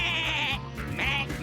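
A cartoon lamb in the Bluey animated series bleats twice, loud and close: a long wavering bleat, a short pause, then a second shorter one.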